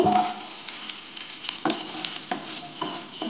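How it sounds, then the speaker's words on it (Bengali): Cumin and mustard seeds hit hot refined oil in a pan, making a steady crackling sizzle with scattered sharp pops and light stirring scrapes, close and fairly quiet. "ফোড়নের জন্য আমি কাঁচা জিরে আর সর্ষেটা দিয়ে দিলাম"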